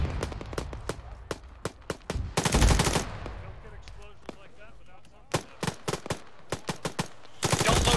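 Military shooter gunfire in Arma 3, sharp rifle shots spaced irregularly alongside two rapid automatic bursts, loud and close, with players talking over radio between the shots.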